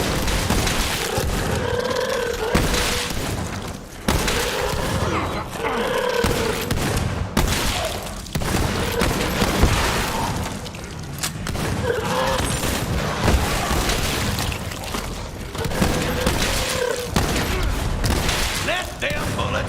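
Gunfire in the video game Borderlands 3, loud bursts of shots and booms in repeated volleys, with voices and grunts over the action.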